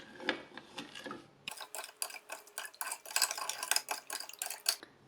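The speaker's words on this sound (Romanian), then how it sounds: "Și amestecăm bine." A cozonac mixture with vanilla essence and lemon zest is stirred briskly, producing a rapid, rhythmic run of close clinks and scrapes after a brief, quieter start.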